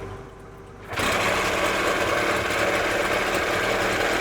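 A Johnson 9 outboard boat motor, newly fitted with a rebuilt water pump, bursts into life about a second in and keeps running with a loud, steady, buzzing rattle close by.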